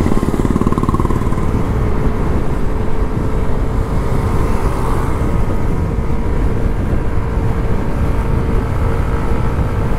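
A Yamaha Aerox 155 scooter ridden fast through corners produces a steady, loud engine drone under heavy wind roar, continuous and close throughout.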